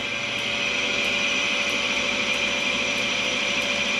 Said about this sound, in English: Let the machine run its countdown again. So there we go, it's building speed up.